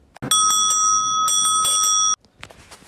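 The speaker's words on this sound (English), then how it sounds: "He rang a bell." A bicycle bell rings brightly and continuously for about two seconds, loud and close, then stops abruptly.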